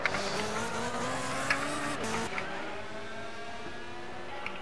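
GT race cars, Audi among them, battle through a corner at Fuji, engines revving and passing at a distance, with a few sharp clicks and tire noise over a continuous moderate roar.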